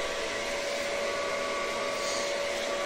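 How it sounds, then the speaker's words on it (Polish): Welding on the centre stand of a WSK 125 B3 motorcycle gives a steady, continuous hissing buzz that stays loud and unbroken throughout, close up and with no speech. "Ja zabieram się za spawanie"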